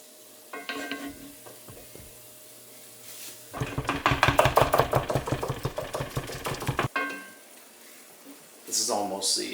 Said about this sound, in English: So everybody can chop up some beef.